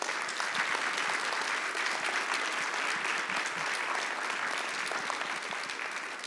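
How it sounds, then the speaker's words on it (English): Steady, dense applause from a conference audience at a closing keynote, sustained and even throughout with no voices standing out. "Let's give Vanessa a round of applause."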